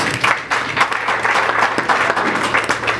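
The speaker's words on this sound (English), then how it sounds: "Another round of applause for her, please." An event audience gives a round of applause, loud, close clapping from many people with a dense, steady texture and slight surges, lasting a few seconds without speech.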